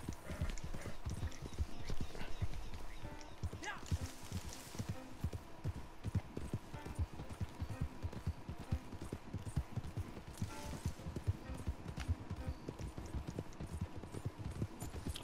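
Horse hooves clip-clopping steadily in a video game, a continuous rapid rhythm of hoof strikes throughout, fairly close and moderately loud with a faint background bed.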